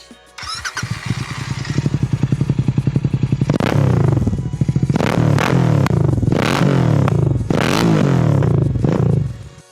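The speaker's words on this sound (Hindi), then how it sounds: "अभी रेड रूस्टर के एग्जॉस्ट, जिसकी मैं आवाज सुनाऊंगा" A Royal Enfield Continental GT 650 with a Red Rooster aftermarket exhaust starts with a clatter, then revs hard several times in quick bursts, loud and close, with a throaty exhaust note between blips.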